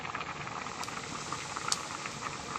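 Rice with eggs mixed in boils in a pot, a steady bubbling and hissing of steam with faint popping, close and continuous with no voices.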